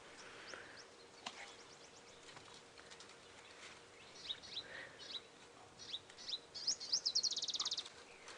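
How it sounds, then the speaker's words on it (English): Small waxbills calling in the African bush at dawn, with quick high chirps and tweets that thicken into a busy burst of calls toward the end over quiet open-air background. "You hear all the little birds passing through, which is quite nice as well. Very small ones, little wax bills."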